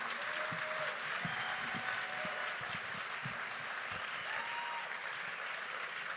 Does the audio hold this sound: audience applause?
yes